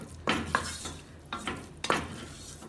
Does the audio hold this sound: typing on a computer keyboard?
no